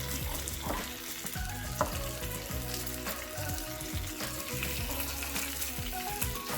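Pieces of fish fry in oil in a pan, giving a steady, dense sizzle that fills the whole stretch, close and loud, with occasional faint clinks of turning the pieces and no talk.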